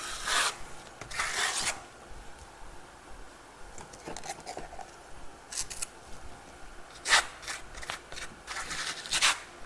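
Steel trowel spreading Torino lime Venetian plaster across a wall, with short scraping and rasping strokes in uneven bursts, close and fairly quiet, with no talking.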